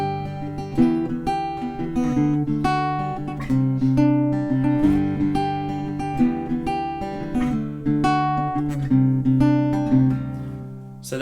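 An acoustic guitar strums the chords of a song in a steady pattern, close and alone, with full ringing chords and no talking.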